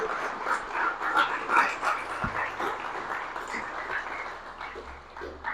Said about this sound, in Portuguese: Se coloque em pé e aplauda esse Deus poderoso. Aplauda mais forte que você puder.